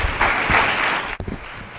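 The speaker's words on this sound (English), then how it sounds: "I think you should save the applause for our honored guest" A crowd claps steadily in a dense, continuous patter of applause, with a brief dip and a few voices near the end.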